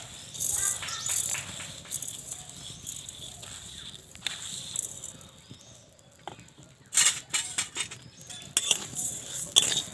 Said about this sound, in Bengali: আর এইরকমভাবে নেড়ে নেড়ে চালটাকে ভেজে নেব